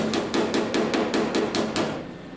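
A hammer strikes metal sheeting about ten times in a quick, steady rhythm, each blow a sharp, close metallic tap while working creases out of a dent, with no talk.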